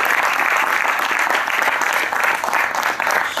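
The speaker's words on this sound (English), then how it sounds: "Gentlemen, you must welcome this girl, this lady, with claps for two reasons." An audience claps steadily to welcome a performer onto the stage at a yoga health talk, dense sustained applause filling the room without a break.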